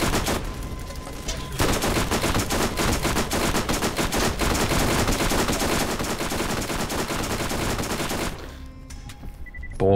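Rapid automatic gunfire from a gun in a Borderlands-style shooter video game, a dense burst of shots that runs loud and steady for several seconds before cutting off, with quieter game sounds trailing after.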